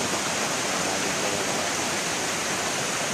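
River water rushing over rocks in a clean rural stream, a loud, steady, close broadband roar that holds unbroken throughout with no voices.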